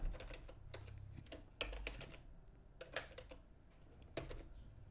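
Keys on a computer keyboard typed in quick bursts of clicks with short pauses between, close and fairly clear, while a command is entered on a Windows 10 PC.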